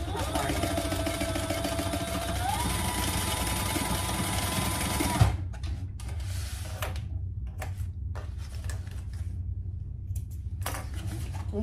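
A sewing machine stitches with heavy Tex 70 thread in a steady, fast whir that runs loud for about five seconds, then stops and gives way to quieter clicks, handling noises and faint voice.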